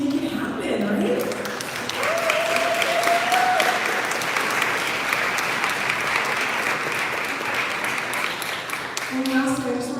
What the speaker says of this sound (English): give yourself a round of applause because you guys make it happen, right?